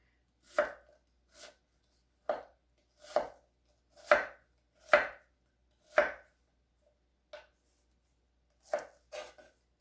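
A knife chops through a large onion on a cutting board in a home kitchen, giving about a dozen crisp, evenly spaced thunks close up with brief pauses between strokes and no talking.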